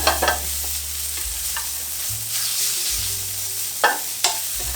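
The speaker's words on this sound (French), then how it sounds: "Je vais faire suer mes échalotes." Shallots and apple peels sizzle steadily in butter in a pan, a continuous frying hiss broken by a few sharp stirring scrapes.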